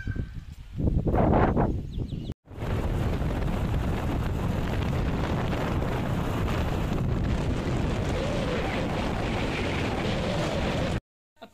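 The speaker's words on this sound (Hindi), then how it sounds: "हवा बहुत ज़्यादा चलने लग गई है" Strong gusty wind roars loud and steady against the microphone while riding pillion on a motorbike, a broadband rushing blast that runs nearly unbroken for about eight seconds after a short gap.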